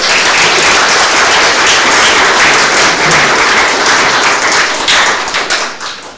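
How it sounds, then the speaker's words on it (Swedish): Loud, close audience applause at the end of a museum research lecture, dense continuous clapping that holds steady and then fades out over the final second. "Jag tycker Birgitta kan vara värd en applåd."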